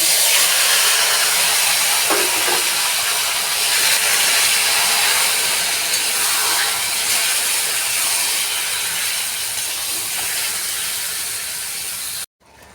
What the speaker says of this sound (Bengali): চিকেনটা তেলে দিতে জল বেরিয়েছে যেহেতু দই মাখানো ছিল